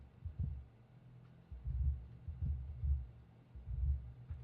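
A blues drum recording EQ'd to keep its bottom end gives soft, deep low thumps in a loose repeating pulse of kick and low drums, muffled and fairly quiet with almost no top end.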